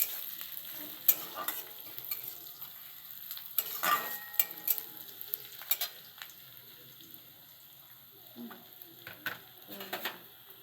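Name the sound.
chopped onions frying in pan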